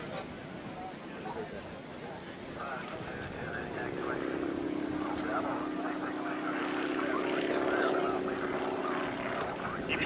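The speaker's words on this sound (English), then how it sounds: "You can hear that engine sputter as it goes inverted" A propeller-driven aerobatic airplane without an inverted fuel system drones overhead at an air show, its engine tone wavering and uneven, with a commentator talking over it.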